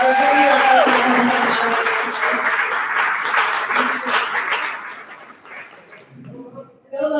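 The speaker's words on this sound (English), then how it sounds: "Can everyone join me in giving Jake a huge round of applause?" An audience at a business luncheon gives a burst of clapping that fades after a few seconds, with voices and room chatter mixed in and rising as the applause dies away.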